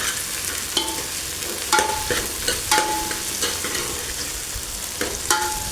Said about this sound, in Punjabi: ਪਿਆਜ਼ ਭੁੱਜ ਗਏ ਤੇ ਟਮਾਟਰ ਆਪਾਂ ਪਾ ਦਿੱਤੇ ਨੇ ਵਿੱਚ ਹੁਣ ਟਮਾਟਰ ਨੂੰ ਕਰਾਂਗੇ ਸੌਫ